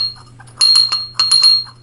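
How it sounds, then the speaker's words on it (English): A small bright bell on a bobblehead mushroom garden ornament rings in two quick jingling bursts, close and clear, with a short pause between them. "It's a bell when it's windy. So it's like a wind chime"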